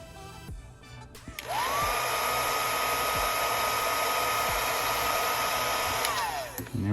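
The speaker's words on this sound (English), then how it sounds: "So I just like turning on the heat gun on the low setting as I'm pulling it up." A heat gun on its low setting is switched on near the work during an iPhone XS screen replacement, giving a steady close blowing whine that spins up, holds for several seconds, then winds down.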